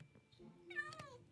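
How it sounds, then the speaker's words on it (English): A Minecraft cat meows once in a short, rising and falling call, fairly clear against a quiet background. "Cat, stay here."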